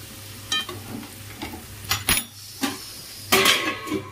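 Okra frying with mustard in a pan, a splash of water going in: soft sizzling under scattered clinks and scrapes of a utensil against the pan, with a brief louder hiss late on, close by.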